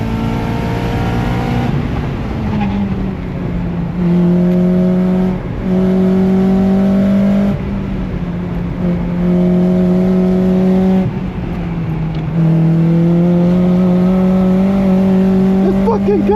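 A race car engine revs hard on a track, its pitch climbing through repeated gear shifts with brief dips between pulls. The engine stays loud and close throughout.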